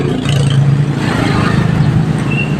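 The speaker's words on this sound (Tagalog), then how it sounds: "Yan po, ang lawak ng mga tricycle." Motorized tricycles rumble past on a street, their engines making a continuous, fairly loud mix of revving and road noise at close range.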